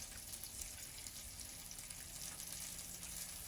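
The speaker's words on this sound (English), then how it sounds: "Let me fry a little bit parsley for me alongside the onion." Parsley and onion fry in a pan, giving a faint, steady, hissing sizzle that stays even throughout with no talk.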